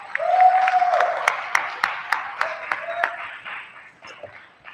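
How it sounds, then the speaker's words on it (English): A conference audience at a Canadian rocketry launch event claps, a moderate patter of individual hand claps with distinct sharp hits, and a voice speaks briefly at the start before the clapping thins and fades. "A nice round of applause for Mach."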